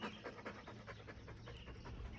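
A dog pants close by in quick, rhythmic breaths while being groomed with a curry comb, the sound soft and steady with no talking.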